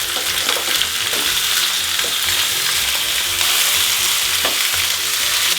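Beef short ribs sear in hot fat in a pan, giving a steady, dense sizzle and crackle with occasional sharper pops and no talking.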